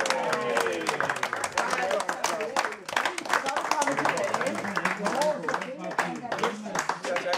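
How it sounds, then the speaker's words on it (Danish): Applause for Svend, who scored 38 points, at a golf club prize-giving ceremony: a steady, dense wash of many hands clapping from a crowd indoors, continuing throughout with some murmured voices mixed in. "Men skal vi ikke klappe Svend med 38 point?"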